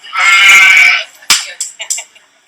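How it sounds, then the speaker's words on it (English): A recorded sheep bleat plays from an assistive communication device, one loud wavering bleat of about a second, followed by a few short taps and clicks. "Did a sheep that time."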